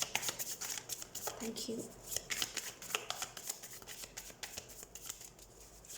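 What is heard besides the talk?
shuffling and drawing tarot cards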